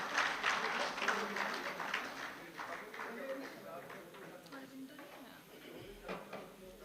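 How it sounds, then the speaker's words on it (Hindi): Audience applause at a ceremony honouring a news team, moderate and steady throughout, with background chatter and some talk mixed in. "जोरदार तालियों के साथ स्वागत कीजिए"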